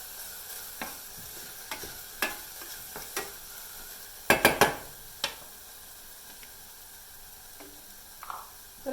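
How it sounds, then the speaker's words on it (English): Garlic sautéing in a pan, a quiet steady sizzle broken by scattered stirring scrapes and clicks, with a brief cluster of sharper utensil taps midway. "Add about 2 cloves of garlic. About that much. We'll saute that for a few seconds more."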